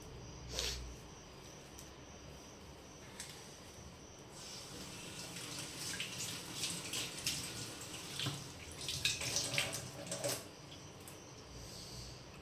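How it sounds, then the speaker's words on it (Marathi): Tap water runs faintly and unevenly as fresh coriander leaves are rinsed in a home kitchen, with soft splashing swells and no talking. "मी हा कढीपत्ता धुवून घेतलेला आहे आता कोथिंबीर पण धुवून घेते"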